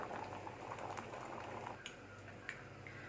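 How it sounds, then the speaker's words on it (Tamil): Chettinad brinjal and drumstick pachadi gravy boils in a pot with a quiet, steady bubbling and occasional small pops. No one speaks. "நல்லா கொதிச்சு ரெடி ஆயிடுச்சு. காயெல்லாம் நல்லா வெந்துருச்சு."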